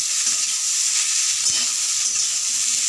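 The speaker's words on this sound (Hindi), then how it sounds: "इसे और हम थोड़ी देर तक भूनते हैं" Mixed vegetables fry in a pan for a mixed veg sabzi, giving a continuous hissing sizzle with a few soft stirring knocks.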